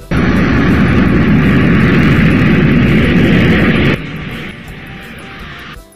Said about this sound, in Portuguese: forte, como o barulho de um avião.